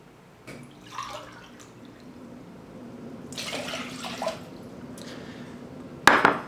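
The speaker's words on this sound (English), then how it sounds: "fill 2 coffee cups worth of water and just pour it straight into the pot" Water from a tap fills coffee cups and is poured into a cooking pot for rice, with splashing bursts, light drips and clinks of dishware, quiet and close with pauses between pours.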